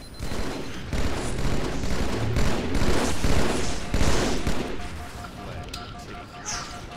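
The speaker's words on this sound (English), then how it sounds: "Shooting sniper" Gunfire in a Halo 2 big team battle capture-the-flag match on Burial Mounds, with a loud, dense run of shots and blasts and a chaotic din.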